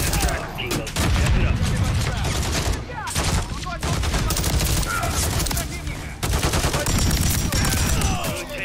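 Dense, loud video game gunfire fills the scene, rapid automatic bursts and overlapping shots with brief lulls, a near-continuous fusillade.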